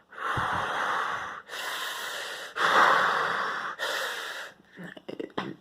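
A voices heavy breathing imitating the puppet character Roy from Don't Hug Me I'm Scared: four long, loud, raspy breaths, followed by a few short snorting gasps.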